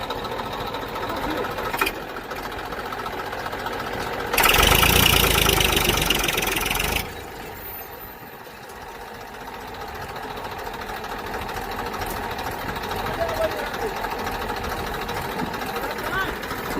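A tractor engine runs steadily after the tractor is pulled out of a pit, with a droning, rattling idle that swells into a louder roar for a few seconds before settling back.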